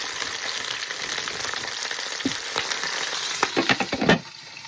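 Chicken frying in a pot: loud, steady sizzle with crackling pops that grow sharper and busier toward the end, close by, with no talking.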